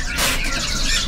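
Birds squawk and chirp at a bird market selling imported Cambodian panca warna birds, a brief burst of shrill, close calls.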